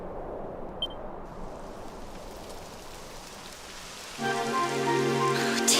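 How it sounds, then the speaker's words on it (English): Steady rain patters softly and continuously in Dragon Quest XI, then a tonal musical hum with sustained notes rises over it near the end. "It would have to go and start raining, wouldn't it?"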